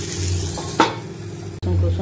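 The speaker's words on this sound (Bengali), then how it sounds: "এই যে প্যানে ঘি বসিয়ে দিয়েছি, চিকেনের পিসটা রোহানের মতো করে যাবে" Chicken piece sizzling in hot ghee in a home kitchen pan, a steady broadband frying hiss across the whole stretch with a brief stir or clatter partway through and a momentary break near the end.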